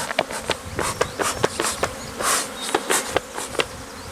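Honeybees buzz close by in a busy swarm around an open hive, individual insects whizzing past the listener in quick passes over a steady hum, with sharp clicks scattered throughout.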